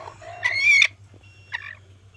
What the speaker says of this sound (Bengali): এটা কিন্তু সব ঝুটি মুরগি